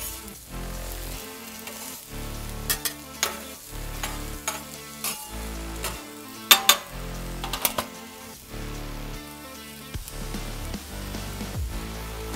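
Cheesesteak meat fries in oil on a hot surface, a steady close sizzle broken by sharp scraping and clanking stirs at an uneven pace.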